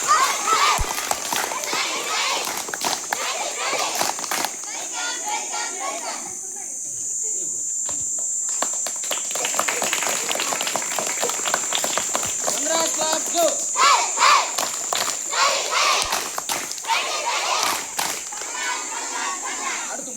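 Schoolchildren clap in welcome at an Independence Day celebration at a Pudukkottai primary school, a dense patter of many small hands running almost continuously, with a shrill insect-like hum and children's voices mixed in.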